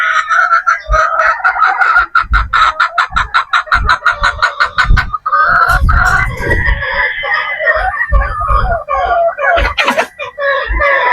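Pure Boston Roundhead brood stag roosters cluck in quick repeated bursts, close and loud, with a drawn-out crow breaking through partway and more clucking around it.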